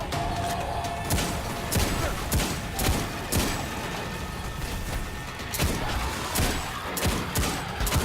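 Rapid gunfire in the video game Destiny 2, with dense repeated bursts and sharp shots fired over a busy, loud game soundscape. A voice speaks briefly over the shooting.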